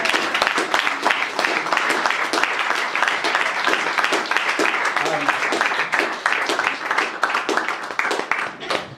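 A comedy gig audience at Cowgatehead claps and cheers in loud, dense applause with sharp individual claps standing out, continuous across the whole stretch, with some voices mixed in.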